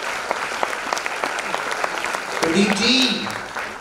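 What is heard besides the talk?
audience clapping at religious discourse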